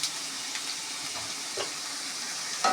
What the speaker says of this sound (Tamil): இஞ்சியை போட்டு நல்லா கோல்டன் ப்ரௌன் ஆகிற வரைக்கும் வதக்கணும்